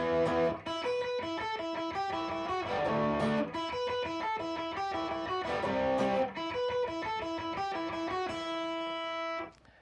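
Distorted electric guitar plays a power-chord riff, two chords and then a line stepping down from E5 to D5 to C5, heard loud and close with rhythmic attacks and no voices.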